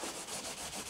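A cloth rubs over boots with grease polish in quick, even back-and-forth strokes, a close dry scrubbing texture repeating several times with no talking.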